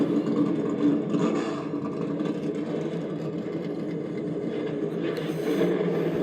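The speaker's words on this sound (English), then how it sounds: "Drivers, start your engines." NASCAR Xfinity Series race car engines start and idle at the Circuit of the Americas, a broad, steady mechanical rumble with a clattering edge that carries through the whole stretch without talk.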